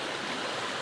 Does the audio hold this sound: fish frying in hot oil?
no